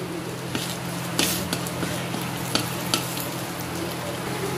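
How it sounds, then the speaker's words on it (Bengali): Cracked egg frying in a pan of vegetables while making homemade chow mein, a constant sizzle punctuated by several sharp spatula scrapes and taps as it is stirred, close and without talk. "একটা ডিম ফাটিয়ে দিয়ে দিচ্ছি, এখন নাড়াচাড়া করবো"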